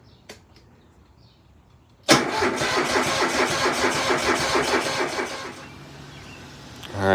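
A Kohler EFI engine on a Scag mower cranks over without firing: a click, then about three seconds of rhythmic whirring starter churn close by, fading to a quieter hum and a rising whir at the end.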